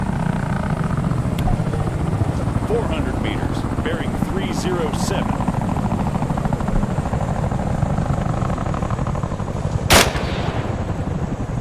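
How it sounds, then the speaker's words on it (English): Helicopters drone steadily in ArmA 3 as a constant, loud rotor chop with scattered gunfire, a man calling out range and bearing over it, and a sharp crack near the end. "All right, first target. Helicopters."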